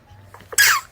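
A single short, explosive sneeze, close and loud, preceded by a brief intake of breath.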